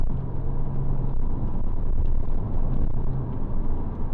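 A 20-year-old Porsche Boxster drives along winter roads, a loud steady low engine and road rumble heard from inside the car, with no talk.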